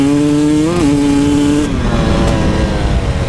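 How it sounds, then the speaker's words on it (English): A KTM 300 XCW two-stroke dirt bike engine blubbers unevenly at partial throttle. The loud, close buzzing drone rises briefly in pitch, then settles into a steady, slightly rough tone. "under partial throttle you could hear the engine being kind of like blubbery a little bit"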